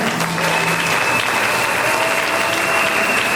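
A church congregation applauds during a Sunday worship service, with steady, dense clapping filling the space throughout and a faint murmur of voices underneath.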